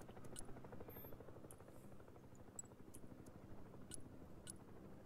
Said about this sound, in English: Look, the helicopter's coming in.